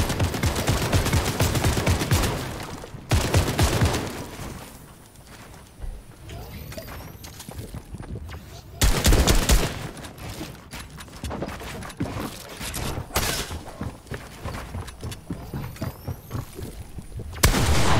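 Gunfire in a video game, with rapid bursts of automatic shots fired through walls, loud cracks clustered in several intense volleys separated by quieter gaps, under continuous game noise.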